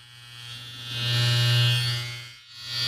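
An electric hair trimmer runs at 7,200 RPM, a steady close buzzing hum that swells slightly louder in the middle, dips briefly, then continues.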